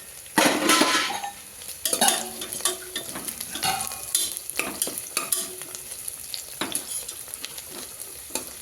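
Onions and masala sautéing in a pan for a mutton pulao biryani, with a steady sizzle under repeated scraping and stirring strokes and occasional clinks of a spoon against the pot, close and fairly loud throughout, no talking.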